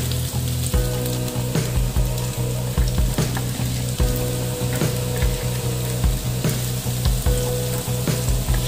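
Ginger and onion sauté in a hot pan for adobong tuna, a loud continuous sizzle broken by regular scraping strokes of a utensil against the pan.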